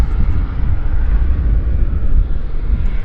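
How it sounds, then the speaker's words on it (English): A powerful airliner engine roars steadily during takeoff at Vancouver Airport, a loud deep rumble filling the whole moment with no voices. "we're hearing more airplanes being cleared for departure"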